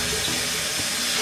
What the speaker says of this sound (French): Là, je vais rincer. C'est bien de rincer avec l'eau froide